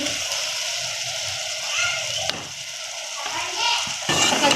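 Tomatoes frying in a pan with ginger-garlic paste for mixed dal, a steady close sizzle with faint stirring clicks and brief pan knocks throughout.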